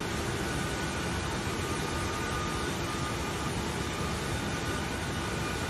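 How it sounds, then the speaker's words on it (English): An airplane engine running and sucking in moisture from the air: a steady, loud broadband roar and hiss that holds constant throughout, with no talking. "This airplane engine is sucking in the moisture from the air."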